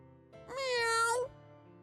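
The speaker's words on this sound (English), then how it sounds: "Is that a cat?" A single cat gives one drawn-out, clear meow lasting under a second against a quiet background.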